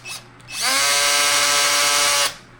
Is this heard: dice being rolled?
no